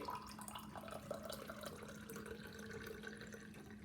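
Water runs steadily from a tap into a container, a continuous close pouring hiss with faint dripping tones, heard alone without speech.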